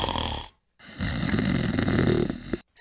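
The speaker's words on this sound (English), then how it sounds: "Snoring." A person snores in a few loud, rasping breaths close up, with a brief silent gap between the first short snore and a longer, rumbling one that cuts off abruptly.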